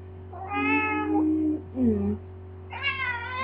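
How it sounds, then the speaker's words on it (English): A cat lets out several drawn-out, whining meows in succession, sounding agitated and fairly close, with a low steady hum underneath. "kitties. Kitties, angry."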